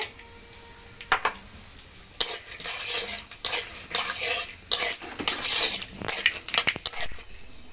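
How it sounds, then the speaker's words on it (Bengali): Raw peanuts being fried in mustard oil in a wok, with bursts of sizzling and scraping stirring strokes and the clatter of a utensil against the pan, intermittent and close. "এখানে আমি কাঁচা বাদাম নিয়েছি, তো বাদামটা ভেজে নেব।"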